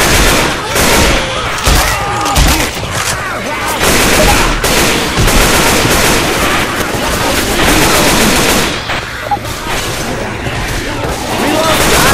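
Continuous gunfire from the co-op zombie shooter Left 4 Dead 2, set in a mall finale, with rapid bursts and booming shots densely layered over chaotic action, while players shout to each other throughout.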